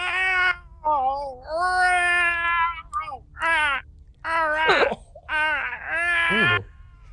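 A person imitates a cat's mating yowl, producing a string of drawn-out, wavering meows and caterwauls that rise and fall in pitch, loud and close, with short breaks between each cry.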